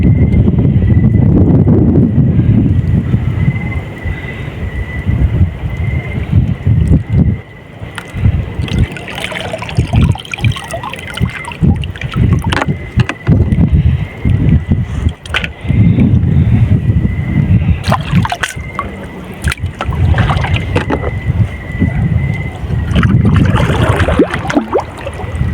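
A small fishing boat is paddled at sea, with rhythmic splashes and water swishing against the hull at close range, alongside gusts of wind buffeting the microphone.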